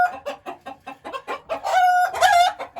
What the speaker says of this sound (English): we got a bunch of chicks and a duck in here right now